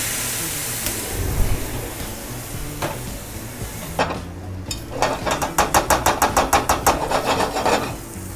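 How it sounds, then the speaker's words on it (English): Butter, garlic and shallots in a pan are deglazed with brandy, a loud sizzling hiss with scattered clinks, then a rapid run of rhythmic scraping or tapping strokes against the pan. "Next we're going to deglaze the pan with some brandy."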